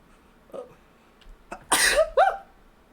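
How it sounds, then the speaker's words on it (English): A single sneeze bursts out at close range after a few quiet throat and breath noises, loud and sharp with a brief voiced tail. "Oh, that was a sneeze."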